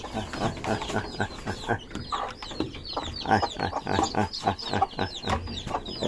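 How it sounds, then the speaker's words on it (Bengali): Brahma chickens cluck and chatter continuously at close range, a dense flock of short, overlapping calls with no pauses. "এই জায়গায় সেই ব্রাহ্মা মুরগির বাচ্চা ফুটেছে"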